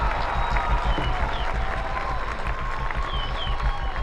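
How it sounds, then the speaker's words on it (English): Graduation audience applause from a large crowd, steady and dense throughout, with scattered cheers and voices mixed in. "Let's give them one last round of applause."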